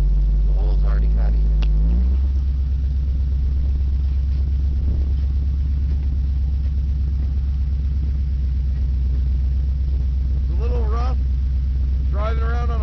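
A Caprice police-package car driving on a busted shock with a flat tire, heard from close by as a loud, steady low engine rumble with a constant drone, while people talk briefly at the start and near the end.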